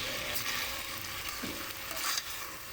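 Chickpea stew sautéing in a pan, a steady broadband sizzle with light stirring scrapes, continuous and close throughout.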